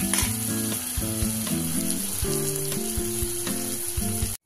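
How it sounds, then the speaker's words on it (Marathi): Chopped onion frying in a pan for vegetable daliya, sizzling steadily up close, with a spoon clattering and scraping against the metal in quick irregular strokes and no voices. "थोडा कांदा फ्राय होऊ द्यायचा आहे।"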